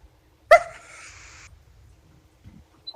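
A single sharp dog bark rings out in a movie scene about dogs running the mafia, loud and close, followed by quiet background rumble and faint movement.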